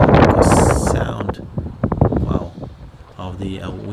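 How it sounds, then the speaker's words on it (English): Strong wind gusts buffet an outdoor microphone with heavy rumbling bursts while someone talks through and between the gusts. "The wind gusts is terrible."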